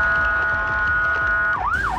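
An ambulance siren wails loudly and continuously: a steady high tone first, then a rising-and-falling yelp sweeping up and down near the end.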